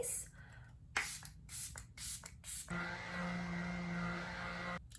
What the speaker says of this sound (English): So we're gonna shake this up and we're gonna spray it on our face.